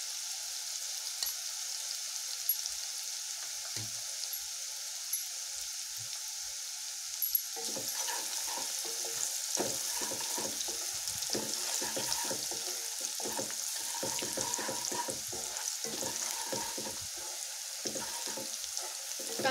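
An onion and ground spice paste fries in a pan with a soft continuous sizzle, then a run of repeated scraping stirs and clinks begins partway through, close and moderately loud.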